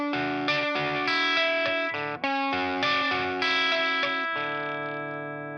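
An electric guitar with chorus and distortion plays a quick, chiming repeating riff, sustained chords, bright and close, with no voices.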